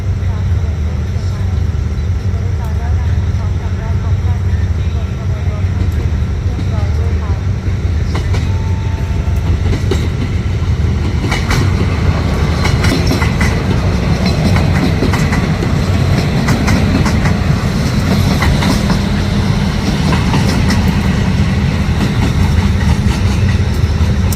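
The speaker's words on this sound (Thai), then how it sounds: "เป็นรถดีเซลราง เข้าชานชลาที่ 4" Diesel railcar train pulling into platform 4 of a station in rain, a steady loud rumble with wheel clatter building over the whole stretch while someone talks over it.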